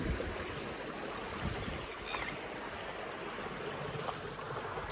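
Gypsy jeep crossing a stream on an off-road trail near a waterfall, water rushing and splashing in a continuous wash, close and steady, with a couple of short sharp splashes.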